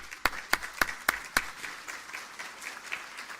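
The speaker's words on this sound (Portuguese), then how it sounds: "podem aplaudir" Audience applause as panelists arrive at a talk on corruption and political reform: five loud, distinct claps close by, then softer scattered clapping from the room trailing off.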